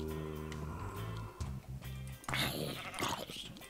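Sheep bleat in the Minecraft video game, with several short, nasal game-sound bleats in a row, followed by a louder burst of noisy in-game sound near the end.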